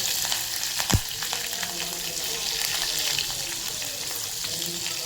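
Curry leaves and two slit green chillies hit hot oil seasoned with asafoetida and burst into a brisk, spitting sizzle, with a sharp knock at the start and crackling that carries on steadily.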